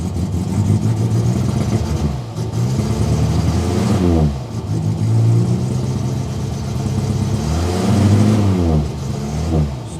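A 1968 Morris engine revs up and down in repeated swells, loud and close, its rough uneven note carrying a slight misfire and hesitation.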